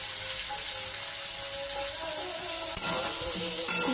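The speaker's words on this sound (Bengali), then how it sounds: "একটুখানি কষে নিই" Vegetable curry sautéing in a pan with a little water, a low steady sizzle with faint bubbling and a couple of sharp utensil knocks near the end.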